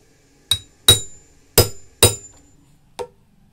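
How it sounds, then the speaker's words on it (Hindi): Five sharp hammer blows on a snap button die used to set a button on a handmade passport holder, spaced unevenly with the last one lighter, each a bright metallic clack with a short ring. "ये जाम बटन डाई है, तो इसके ऊपर ऐसे ठोक सकते हैं"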